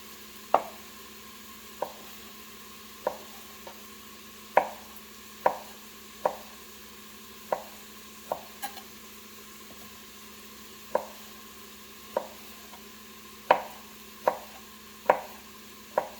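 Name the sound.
chopping ham into cubes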